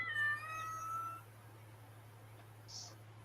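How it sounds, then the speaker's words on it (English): A house cat gives one short, faint meow at the very start, over a steady low electrical hum, with no talking. "Did I just hear the cat?"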